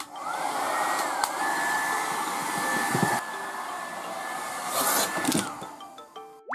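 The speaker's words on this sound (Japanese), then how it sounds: "なぜかここで髪乾かしてんの" A hair dryer blows steadily at close range after a bath, a broad continuous whoosh with a faint tonal whine, briefly shifting in pitch as it is moved and ending with small clicks.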